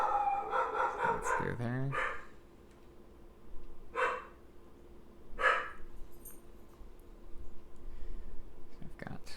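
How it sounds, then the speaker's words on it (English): A loud dog barks in short separate bursts, a few seconds apart, heard through a room during a board game, with a voice talking over the first bark. "Such a loud dog."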